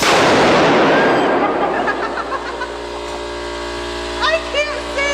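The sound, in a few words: electromagnetic quarter crusher firing with a loud bang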